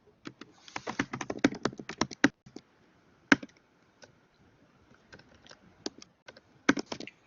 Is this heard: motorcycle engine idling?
no